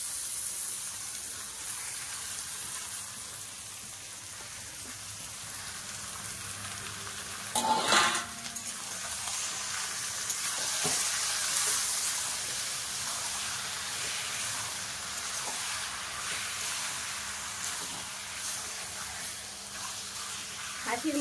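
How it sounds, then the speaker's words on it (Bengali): Mutton pieces and papaya are sautéed with lightly fried onions in a pan for a mutton curry, making a continuous hiss and sizzle with a sudden louder burst as food drops in, then stirring scrapes throughout. "এর মধ্যে মাংসগুলো দিয়ে কষে নেব। পেঁপে আর মাংস একসঙ্গে দিয়ে কষে নেব।"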